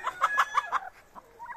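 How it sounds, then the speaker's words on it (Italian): Bantam chickens in a coop with young Padovana hens give a quick run of five sharp, rhythmic clucks close by, followed by a few softer, scattered calls. "Oh, la bantam che dà dietro a quell'altra gallina"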